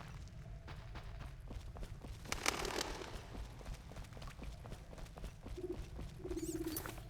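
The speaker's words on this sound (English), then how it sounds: "And the rats." Rats in the video game The Witcher scurrying as quick, faint patters and scratchy skitters, with a few small squeaks, all over a quiet game ambience.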